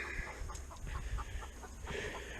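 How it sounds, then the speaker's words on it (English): Several chickens cluck and squawk nearby in a short, agitated flurry of overlapping calls. "if I can talk over these chickens, their world's all tore up"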